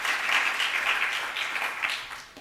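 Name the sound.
audience applause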